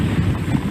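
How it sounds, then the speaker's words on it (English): Strong wind gusts from Hurricane Irma buffet the microphone near downtown Miami, making a loud, continuous low rumble with uneven surges throughout. "The wind is gusting pretty fiercely here."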